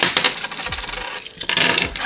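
Coins being handled for a coin savings challenge, with dense metallic jingling and clinking close by throughout, several sharper drops standing out, and no talking.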